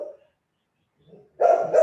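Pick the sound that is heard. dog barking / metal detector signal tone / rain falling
dog barking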